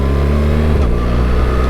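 A BMW R 1300 GS motorcycle engine pulls hard, then a quickshifter upshift drops the revs in one sharp, clean step before the loud, droning engine steadies in the next gear.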